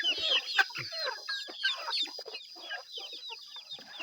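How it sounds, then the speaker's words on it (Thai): Free-range farm chickens cluck and chatter continuously at close range, overlapping calls from several birds with a brief louder squawk early on, no talking. "ไก่ไง"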